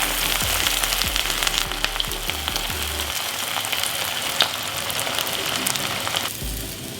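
Rice frying in a pan for crispy rice salmon sushi, a dense continuous sizzle and crackle with some low thuds early on, loud and close, with no talking.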